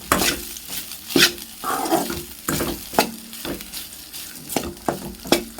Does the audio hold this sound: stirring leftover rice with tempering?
yes